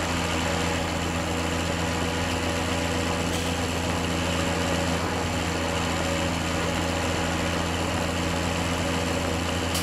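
A Farming Simulator 17 tractor engine idles on and on with a low, droning hum and faint mechanical whine, unchanging throughout with no voices.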